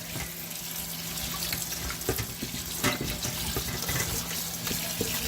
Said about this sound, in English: just let those, rinse those off in the hot water